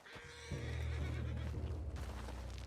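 A spooked horse neighs loudly and close by, a drawn-out whinny that rises and shudders before trailing off.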